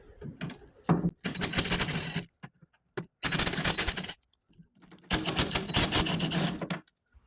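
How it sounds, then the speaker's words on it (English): Cordless driver removing three Torx screws from the rear door assembly of a Ford F150 extended cab, sounding in three loud bursts of rapid ratcheting whir separated by short pauses, with no talking. "Let's go ahead and take these 3 Torx bits off."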